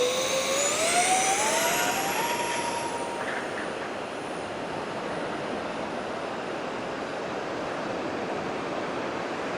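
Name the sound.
radio-controlled model C-17 Globemaster jet taking off from a beach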